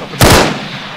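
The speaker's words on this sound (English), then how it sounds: "Hang on, I'm going to take a shot." A single loud, close gunshot goes off in ARMA 3, a sharp crack that rolls into a short echoing tail, alone without talk.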